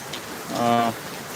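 Rain pouring steadily at a motorcycle garage, a continuous hiss with a brief tonal, voice-like sound rising through it partway.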